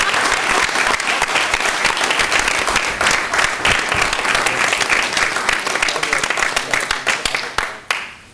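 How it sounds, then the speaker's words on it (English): Audience at a school board meeting claps for a student, a dense run of sharp hand claps that thins out and fades near the end. "Let's clap for that."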